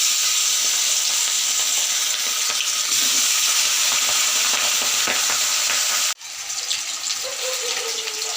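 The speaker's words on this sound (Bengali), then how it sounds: "কড়াইটা গরম হয়ে গেছে, আমি এখন মাছের মাথাগুলি দিয়ে দিচ্ছি।" Fish heads hit a hot wok of oil and crackle in a loud, dense, continuous sizzle close by, with an abrupt drop and shift in texture near the end as the frying settles.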